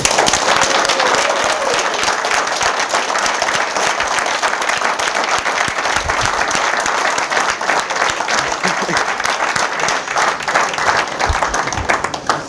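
A large audience gives loud, sustained applause at an award ceremony for the Galecock ring, dense steady clapping throughout with no break.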